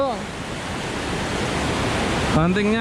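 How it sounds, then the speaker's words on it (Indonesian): Floodwater rushing through a natural river channel as it rises fast, a steady broadband roar throughout, with a voice speaking briefly near the end. "Oh ini banjir guys."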